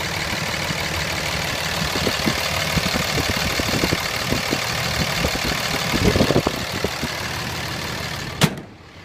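A 2005 Dodge Ram diesel truck engine idles with a steady low clattering rumble, close and continuous, with a few knocks and a sharp click near the end.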